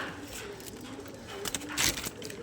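Pigeons coo in low, rolling calls inside a loft, close and fairly soft, with a brief rustle of wings or movement partway through.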